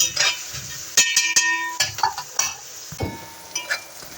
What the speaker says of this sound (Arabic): هنقلب بقى ايه البصله بتاعتنا الحلوه دي لحد ما تتكرمل معانا